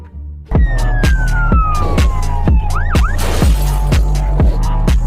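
A toy police patrol car's siren wails in a loud, close electronic pattern, switching on abruptly and cycling through fast rhythmic pulses and swooping tones with no one speaking.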